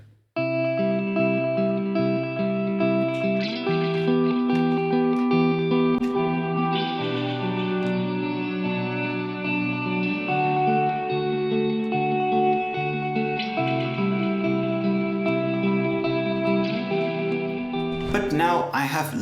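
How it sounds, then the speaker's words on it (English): A guitar track plays chords and melodic notes, treated with a reverb effect, with a steady, sustained tone and a lingering wash behind it; the playing carries on throughout at an even level. "This is the guitar track that we're going to be putting some reverb on."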